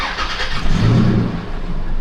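A Toyota FJ Cruiser engine revs up loudly and holds a rough, throaty roar before settling back toward idle, close by with no talking.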